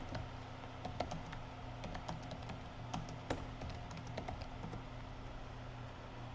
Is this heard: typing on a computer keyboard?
yes